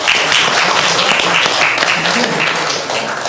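Dense, steady audience applause fills a talkshow exhibition hall, loud and close, with clapping sustained evenly throughout and no one speaking over it.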